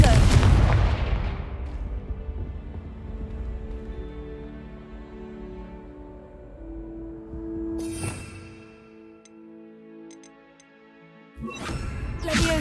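A Confringo blasting spell in Hogwarts Legacy sets off a loud explosion that rumbles and decays into ringing tones, followed by sharper blasts later on.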